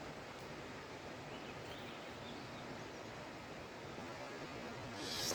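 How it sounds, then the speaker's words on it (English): A cascading waterfall in a forest in Olympic National Park, heard as a steady, dense roar of rushing water that fills the whole clip at an even level, with a slight swell near the end. "Cascading waterfall."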